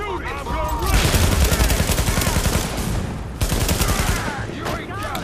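Sustained automatic assault-rifle fire in the shooter game The Division, loud rapid bursts layered with other gunshots and a brief pause before firing resumes.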